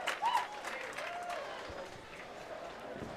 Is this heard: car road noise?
no